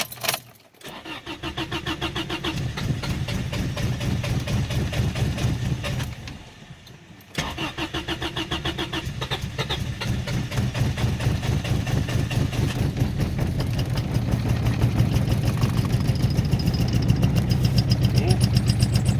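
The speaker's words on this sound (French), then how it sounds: "Il est parti, il est à 1000 tours, le gaz au fond." Car engine with a suspected spark fault cranking, then catching and running with the throttle floored around 1000 rpm, a loud close rough rumble that stalls briefly, restarts and keeps droning steadily as it slowly builds.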